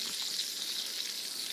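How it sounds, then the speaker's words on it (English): Butter burgers sizzling and frying in a cast iron pan inside an air fryer, a steady close hiss of spitting fat that continues without a break. "you can see her sizzling away"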